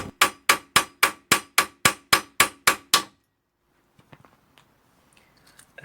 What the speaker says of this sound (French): je vais taper au marteau pour la débloquer